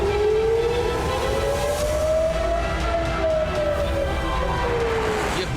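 Civil defense war siren wailing in Israel, a single long rising and falling tone heard from a distance over a heavy rumbling background noise.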